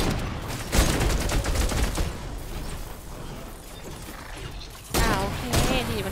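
A defender turret fires in Fortnite, during a Vindertech Research Lab mission: loud bursts of rapid shots come and go in clusters, with a voice talking quietly underneath.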